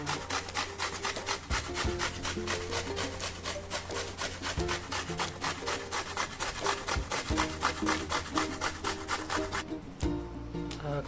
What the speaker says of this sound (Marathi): यानंतर आपण बीट किसून घेत आहोत.